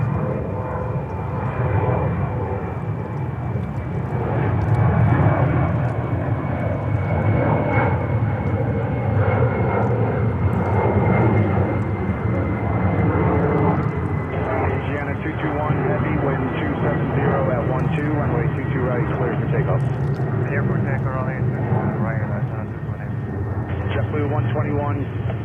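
A Boeing 777 landing at JFK airport, heard as a steady, loud, broadband jet engine roar that holds throughout, with a faint whine and radio chatter underneath.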